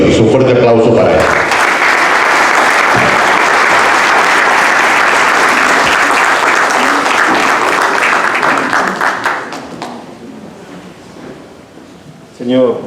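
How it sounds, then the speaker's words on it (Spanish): A Spanish-speaking audience gives loud, sustained applause for a book presenter at a poetry book launch held by a regional club. The clapping fills most of the clip, fades toward the end, and a voice briefly cuts in at the close. "Un fuerte aplauso para él."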